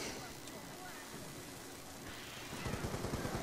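Dense automatic gunfire from the zombie shooter Die Rise Zombies, a steady rattle that turns into louder, rhythmic bursts near the end, mixed with game noise.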